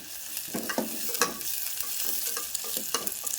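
Onions fry in a pan toward golden brown, with a steady sizzle broken by a spatula scraping and stirring in short, irregular strokes. The sound is close and moderately loud, with no voices.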